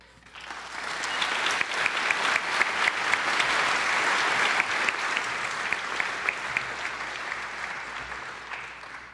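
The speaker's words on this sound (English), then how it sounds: "that was not the round of applause that will determine the vote" Sustained applause from a debate audience fills the hall for about nine seconds, steady and dense with sharp individual claps on top, building quickly and holding before easing slightly.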